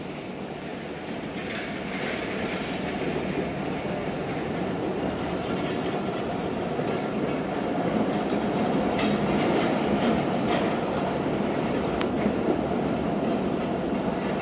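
Khyber Mail passenger train running on rails, a steady loud rolling rumble with rhythmic clickety-clack of wheels over rail joints throughout, heard alone without voices.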